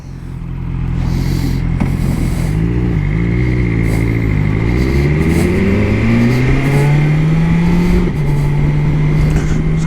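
A motorcycle fitted with a quick shifter accelerates hard close up, its loud engine note climbing steadily with brief dips at each rapid upshift, under continuous wind rush.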